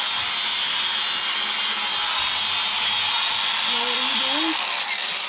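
A power drill bores through metal for homemade door latches in a workshop, a steady loud grinding hiss running throughout, with brief speech over it near the end.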